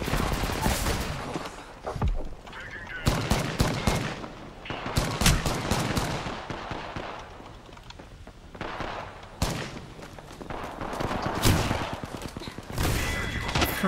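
Repeated gunfire in an Apex Legends match, loud sharp bursts and rapid volleys recurring throughout, with brief gaps between clusters of shots.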